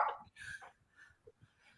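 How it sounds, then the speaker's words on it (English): A dog barks in a few short, sharp bursts indoors, loud at first and then smaller yips trailing off over a quiet room. "And my dog's going off the wall."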